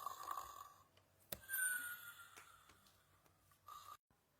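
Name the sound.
snoring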